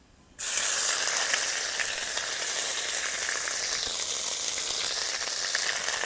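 A spoonful of ginger-garlic paste hits hot oil for an egg ball curry, bursting into a sudden loud sizzle that then holds as a dense, steady crackling fry close by, with no talking.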